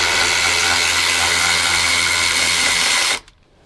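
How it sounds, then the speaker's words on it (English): Electric ratchet driving a 1/2-inch socket on an extension to remove bolts under the dash of a Classic Mini: loud, steady whirring buzz held for about three seconds before cutting off abruptly. "grabbing an extension with a 1/2-inch socket and my electric ratchet"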